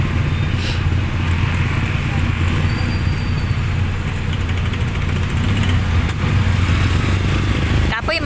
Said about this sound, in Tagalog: Ayan si sister nag-drive ng motor.